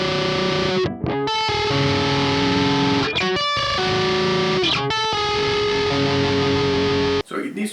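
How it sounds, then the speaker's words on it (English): Distorted electric guitar plays a rhythm part with a dissonant chord: sustained, loud strummed chords with brief choppy breaks and restrikes, played alone. "So what I played here with this like rhythm guitar part was something like this."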